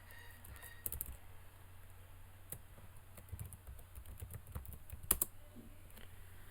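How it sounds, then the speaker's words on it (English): A password is typed on a computer keyboard in quick, irregular bursts of soft key clicks, with a few sharper taps standing out, faint and close against a low background hum. "and then type in your password"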